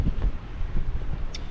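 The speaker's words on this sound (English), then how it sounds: "But it's this wind." Strong gusty wind buffets the microphone beside a river on a very cold night during sea fishing, a loud, low rumbling roar that pulses in uneven bursts.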